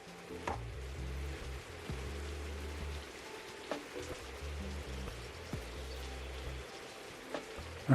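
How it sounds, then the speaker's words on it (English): Rain patters down in the cozy game Tiny Bookshop, a constant soft hiss with occasional louder drips and taps over a low background hum. "It's raining."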